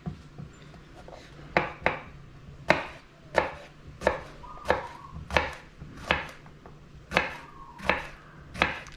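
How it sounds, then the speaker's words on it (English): A knife slices vegetables thinly on a cutting board for Mexican-style steak, sounding as a steady series of about a dozen crisp, close chops at an uneven, unhurried rhythm, with no talking. "Like trying to cut them thinly, as evenly as possible, but I'm not doing the best job at it."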